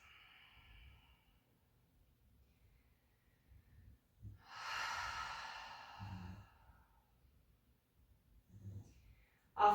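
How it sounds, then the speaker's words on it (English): A slow, deep breath during a gentle yin yoga session, heard as one long, smooth exhale in the middle, with quiet breathing and faint rustles around it. "continuously breathe smooth, sweet breaths"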